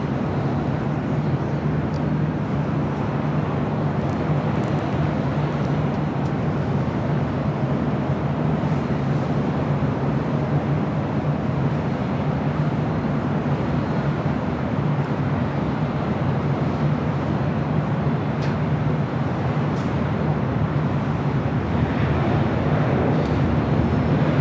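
A Boeing 747 taxis across runway 25 Right at Los Angeles International Airport, a steady low jet-engine rumble and hum that holds evenly throughout with no pauses.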